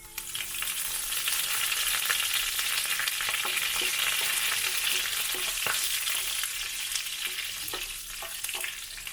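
Dried red chillies and curry leaves sizzle steadily in hot oil for tempering, a dense continuous crackle with scattered sharp pops and light stirring clicks, close and fairly loud with no voices.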